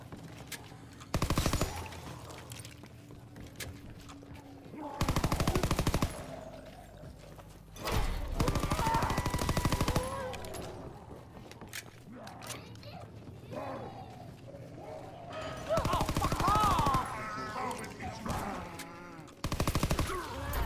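A pack-a-punched gun in Call of Duty WW2 fires in several loud, sharp bursts separated by quieter gaps, with game effects and a voice speaking between the shots.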